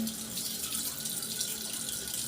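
Water rushing steadily into a toilet tank through the supply line, a continuous loud hissing flow with no break and no voices.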